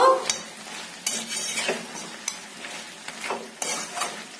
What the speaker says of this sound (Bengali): এখন এখানে আমি আলুর টুকরোগুলো দিয়ে দেব, দিয়ে একটু নাড়াচাড়া করব